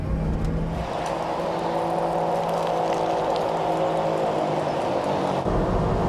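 A Hummer H2, tuned with a six-inch raised chassis, rolls along a paved road on oversized off-road mud tyres, giving a steady loud droning whir and engine hum that continues throughout.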